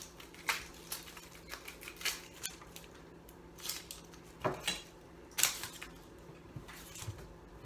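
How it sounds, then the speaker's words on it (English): Outer skin layers pulled off an onion for stout onion soup, giving a series of close, faint crinkly crackles and papery tears in irregular short bursts, with no voices. "You also want to peel off the first couple layers of skin."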